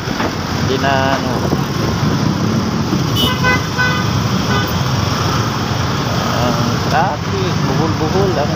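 Heavy, congested traffic on a newly built road, heard from a habal-habal motorcycle ride, forms a constant dense roar with repeated horn toots and engine noise, while voices talk over it.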